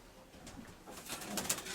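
A large white pigeon coos softly, a few low, gentle calls against a quiet background with faint rustling, close by and not loud.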